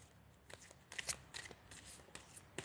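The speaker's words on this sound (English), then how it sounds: "So one more shuffle." Quiet riffling and slapping of tarot cards being shuffled, a series of short bursts close by, with no talking.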